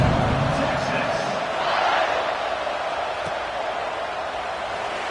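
A football stadium crowd buzzes after a score, a steady, distant roar of many voices. An announcer's talk runs over it.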